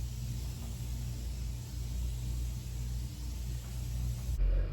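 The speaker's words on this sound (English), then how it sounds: "if you hear the background, it's going to be the cars, not the kids crying" Cars pass outside in the background, a low, steady traffic rumble heard from inside a parked van on a hot day, with a slightly louder swell near the end.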